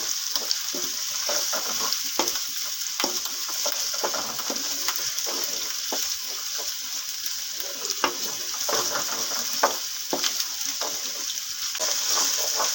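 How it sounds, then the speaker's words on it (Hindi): Spices frying in a pan for aloo gobi with ginger, a steady close sizzle with irregular stirring scrapes throughout and no talk. "एक से 2 मिनट तक मसाले को भून लेंगे अच्छी तरह।"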